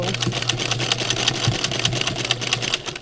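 A sewing machine stitches over a pipe cleaner folded in half, a thick layer under the presser foot. The needle makes a close, fast, steady mechanical whir with a constant low hum beneath.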